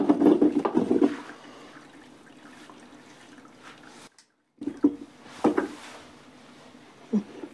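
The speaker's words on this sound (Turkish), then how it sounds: "Şimdi kapatacağım altını, süzeceğim bu suyu tekrar." Hot water poured off boiled pumpkin pieces in a home kitchen, a steady near splashing trickle with louder gushes at the start and again after a brief pause, ending with a few drips.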